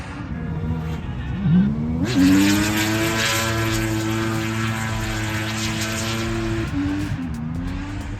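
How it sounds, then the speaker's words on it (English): Cars drift fast uphill into a tight corner on a Japanese course, engines revving loud and rising in pitch, bouncing off the limiter and then holding a sustained high wail through the slide. "They're drifting that fast uphill to that tight corner."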